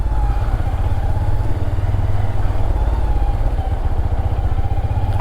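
A 2022 Honda Grom motorcycle engine running at a steady, even idle: a continuous low, rough drone, close and fairly loud, with no voices.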